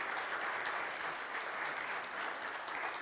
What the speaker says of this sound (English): can we give them a round of applause for serving?